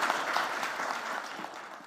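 Steady applause from a poetry festival audience welcoming a poet to the stage, a dense, even wash of many hands clapping at a moderate distance, faint and continuous with no speech.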